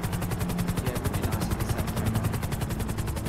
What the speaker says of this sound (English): why don't we jump on a SWAT helicopter and shoot at them?